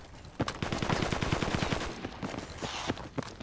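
Gunfire in the military shooter Project Reality crackles around a house fight: a dense rapid burst of automatic fire for about a second, then scattered single shots and short volleys, moderately loud.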